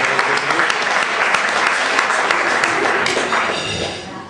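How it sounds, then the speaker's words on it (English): Crowd at an event applauding vigorously, steady dense clapping from many people with a few sharper claps standing out, then tapering off in the final second. "let's give them a big round of applause."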